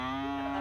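A cow lets out a single sustained, loud moo with a rich droning tone, close and alone, in a sitcom scene.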